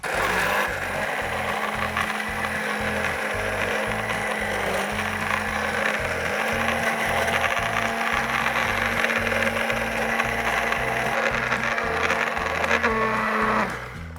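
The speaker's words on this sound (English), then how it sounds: "So I'm just going to stick this in here and blend it up." An immersion blender whirs steadily as it blends food scraps in a kitchen, a continuous motor drone with pulsing low chopping texture that runs unbroken for most of the clip and then cuts off near the end.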